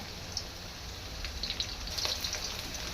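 Finely chopped garlic, ginger and green chillies sizzling in hot oil for veg Hakka noodles, a faint, even hiss with a few sharper crackles, no one talking.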